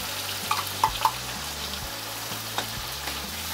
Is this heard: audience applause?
no